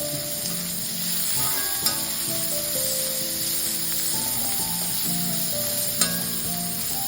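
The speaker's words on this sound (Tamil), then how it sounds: "வெங்காயத்தை போட்டு வதக்கணும்." Onions sauté in a pan for a jackfruit porial with a steady, close sizzle and frying crackle throughout. Occasional light stirring clinks sound over it, with no speech.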